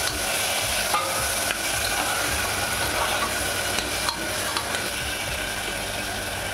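Mutton shank pieces frying in a pan make a loud, constant sizzle while a spatula stirs them with faint scraping clicks, close up and without speech.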